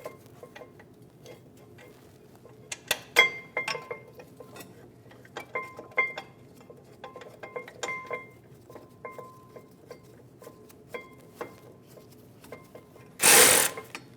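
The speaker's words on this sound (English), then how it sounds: "Install the bracket and get the bolt started." Metal parts of a 2010-2015 BMW X1 xDrive brake assembly being fitted by hand, sparse light clinks and ticks of a caliper bracket and bolt being started, close and intermittent.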